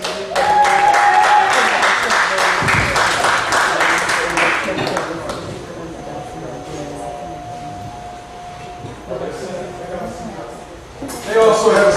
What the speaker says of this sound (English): Let's hear a round of applause for them, please.